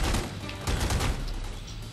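Shotgun blasts boom in The Godfather 2 video game amid a dense fusillade of gunfire, loud and continuous with repeated heavy hits over two seconds and no talking.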